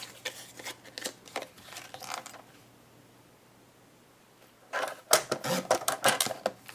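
Bursts of sharp sliding and scraping as a paper trimmer blade runs across stiff cardstock, two separate passes with a quiet pause between them.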